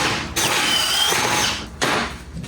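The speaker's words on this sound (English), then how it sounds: "drill holes where all the grease is at so that the bolt heads can stick through the board" A power drill whines as it bores holes through a wooden board for a small boat's motor mount, a sustained high motor tone cut off briefly before a second short burst.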